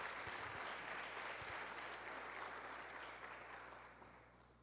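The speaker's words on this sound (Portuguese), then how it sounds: "uma salva de palmas para os irmãos que estão bem aqui" A church congregation applauds together in a broad, steady wash of clapping that holds and then tapers off gradually.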